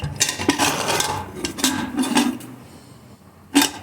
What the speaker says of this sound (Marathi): कुकरचं झाकण बंद करते.